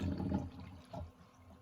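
Kombucha pours and splashes softly into a bottle, a quiet bubbling trickle that fades partway through.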